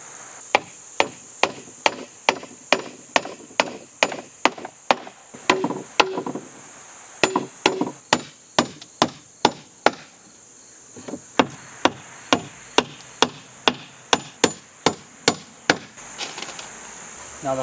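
Wooden deck bench boards are cut and attached outdoors, with a long run of sharp, regular knocks, bursts of rapid hits and short pauses, over a steady high insect drone.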